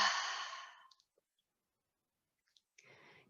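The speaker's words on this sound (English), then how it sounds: "Full inhale and full exhale through the mouth." A deep exhale through the mouth during a yoga breathing exercise, one long airy sigh that fades over about a second, then quiet with a couple of tiny clicks and a softer breath starting near the end.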